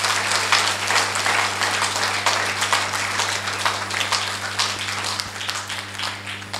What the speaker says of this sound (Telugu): గట్టిగా చప్పట్లు కొడదాం వాళ్ళకి